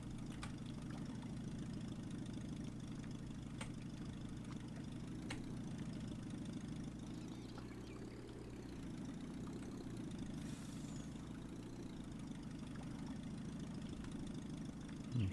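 A tractor engine idles in the Farming Simulator 19 video game on the No Mans Land map, giving a steady, continuous low rumble that stays close and even throughout, with no talk over it.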